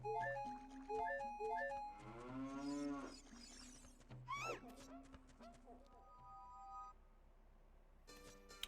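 Cows moo in the cow grotto of the video game Ocarina of Time, long low calls sounding among game music and effects, with a person talking over them.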